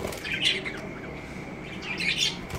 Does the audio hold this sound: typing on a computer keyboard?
no